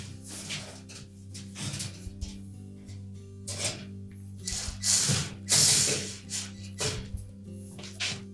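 Screw being driven into a door hinge on a Whirlpool range, a close ratcheting, grinding turn repeated in short bursts, with metallic scrapes and clicks and a steady low hum underneath.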